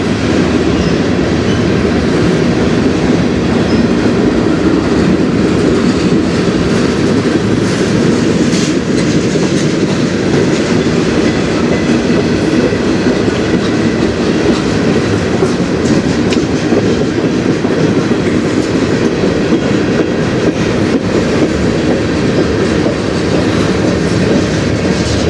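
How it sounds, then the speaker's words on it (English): A CN freight train rolls past on the Strathroy Subdivision, a loud, constant rumble of wheels and cars with steady clatter all the way through, close by and without any talking. "I knew there had to be a DPU or a rear engine on this train"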